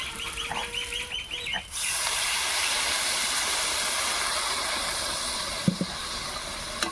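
Water is poured into a hot cooking pot and sets off a sudden, sustained hiss and sizzle, after a few hen clucks nearby at the start.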